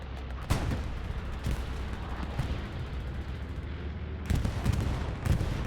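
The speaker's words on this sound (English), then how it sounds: "Allies opt for a bombing run over 5 points" Bombing run in the Hell Let Loose video game hitting a strong point, heavy booming blasts at the start and near the end over a continuous low rumbling roar of distant explosions.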